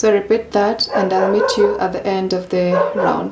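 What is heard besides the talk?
dog barking in the background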